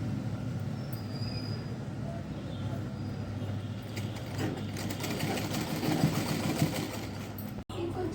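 Sewing machine running steadily to stitch piping onto the back and front panels of a child's baba suit (jhabla), a continuous close mechanical whir for the whole stretch.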